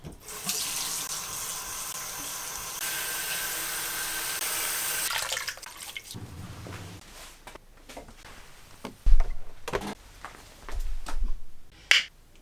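Tap water runs steadily into a sink for several seconds while towels are wetted in an esthetician's treatment room, followed by quieter handling sounds, clinks and short splashes.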